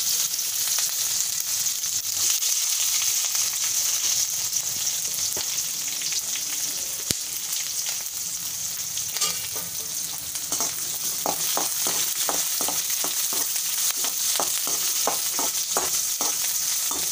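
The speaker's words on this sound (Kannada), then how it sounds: "ಸ್ವಲ್ಪ ಆಯಿಲು, ಸಾಸಿವೆ, ಜೀರಿಗೆ, ಹಾಗೆಯೇ ಹಸಿಮೆಣಸಿನ್ಕಾಯಿ ಮತ್ತು ಆನಿಯನ್ ಹಾಕಿ ಒಗ್ಗರಣೆ ಮಾಡಿಟ್ಕೊಂಡಿದ್ದೀನಿ ಇಲ್ಲಿ" Oil in a pan crackles and sizzles steadily as mustard seeds, cumin, green chilli and onion fry for a tempering, with rapid popping bursts and stirring growing denser toward the end.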